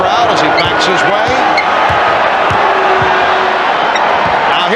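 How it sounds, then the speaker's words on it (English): A dense, loud arena crowd roars continuously through a 1993 NBA Finals game between the Bulls and Suns, aimed at Charles Barkley, with basketball bounces and a commentator talking over the din. "Charles Barkley hearing it from the crowd as he backs his way"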